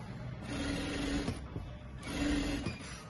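A sewing machine stitching a fabric lining runs in two short bursts of rapid mechanical whirring with a brief pause between, heard close and fairly quiet.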